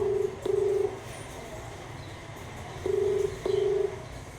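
A phone places an outgoing call, and two pairs of steady, evenly pitched ringing tones sound clearly about two and a half seconds apart, with quiet room noise between them.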